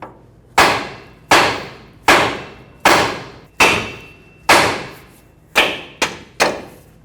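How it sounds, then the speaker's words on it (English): A hammer strikes the steering knuckle of a 2009-2014 Ford F-150 to pop the tie rod loose: eight sharp, loud, close metallic blows at an uneven pace, each ringing briefly, with no talking. "use a hammer, hammer the knuckle until the tie rod pops up"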